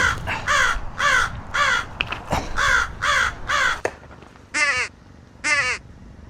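A nearby bird at a gas station gives a string of harsh, rasping caws in a steady rhythm, about six in quick succession, then a pause before two more sharper, higher calls. The caws come loud and close, with no talking.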